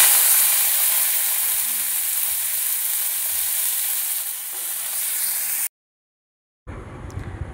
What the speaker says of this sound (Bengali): এবারে ওই তেলের মধ্যে বরবটিগুলো ভেজে নেব।